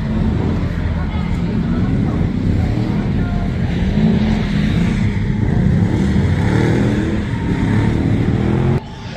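A Ford Mustang's engine runs and revs at a motoring festival at the Kyalami race track, a steady loud rumble with crowd and outdoor noise throughout.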